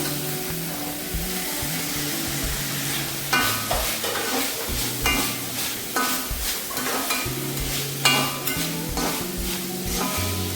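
Scrambled egg being stirred into chicken fried rice in a hot pan, with steady sizzling and frying plus repeated scraping and clinking of a utensil against the pan, close and fairly loud, no talking.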